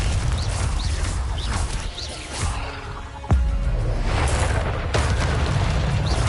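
Confringo blasting spell cast in Hogwarts Legacy, heavy booming explosions rumbling repeatedly with a sharp burst near the middle amid continuous game noise.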